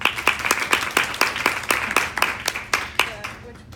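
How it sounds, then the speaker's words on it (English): A small audience at a Seattle startup pitch gathering applauds, with distinct, close handclaps in a quick steady rhythm that thin out and soften toward the end. "Let's give her a round of applause."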